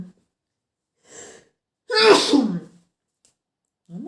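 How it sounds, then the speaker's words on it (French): A single sharp sneeze preceded by a short intake of breath, close and loud in an otherwise quiet room. "Je sens que je vais éternuer, ça y est."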